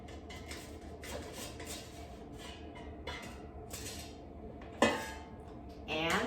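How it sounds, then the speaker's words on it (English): An air fryer basket is pulled out and a frozen Smucker's Uncrustable sandwich is flipped inside it, giving light metallic clatter and scraping, a sharp clank near the end, then a rising whoosh. "let's take out the air fryer basket and flip the Uncrustable over so it browns"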